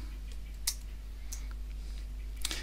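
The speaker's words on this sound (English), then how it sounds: "I can make it bold as well if I want to by hitting the B key" Computer keyboard keys are tapped for a shortcut that bolds text: three sharp, separate clicks spaced about a second apart, close up over a quiet electrical hum, with no voice.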